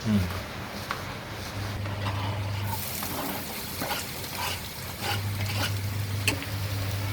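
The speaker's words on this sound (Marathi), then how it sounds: "आता त्याच्यावर अनियन टाकेन फ्राय करायला" Onions dropped onto green chilli, ginger and garlic already in a hot pan for mushroom manchurian, frying with a steady sizzle and scraping of stirring while a person talks over it.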